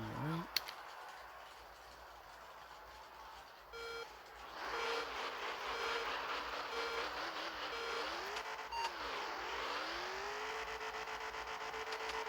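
An 1800 HP Hemi-swapped Fastback Mustang in a video game revs up into a tire burnout, its engine climbing and wavering in pitch with sustained squealing rubber, preceded by a few quieter beeps and clicks.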